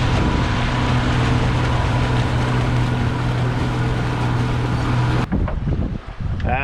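A sailboat motors under engine on Lake Okanagan, a steady low drone with strong wind rush over it that cuts off abruptly near the end, followed by brief irregular buffeting and handling noise.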